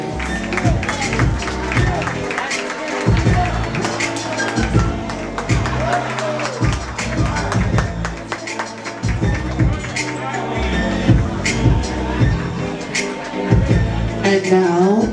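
Audience applauding a contestant at a pageant-style event, steady mid-level clapping with crowd noise and voices talking over it, rhythmic thumping music underneath throughout.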